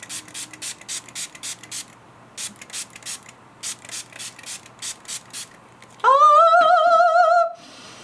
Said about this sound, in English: And I'm gonna spray my entire face.